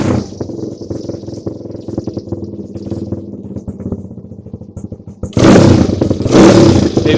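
A Honda CRF 100 dirt bike engine warming up, with a steady rapid idle chugging close by that jumps to a louder, harsher roar near the end.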